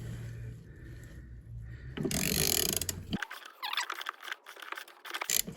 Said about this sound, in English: you'll see the housing rotating and coming undone